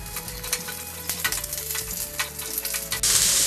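Onions sizzle and crackle steadily in a hot pan for chicken masala, with occasional stirring clinks and a louder hiss near the end.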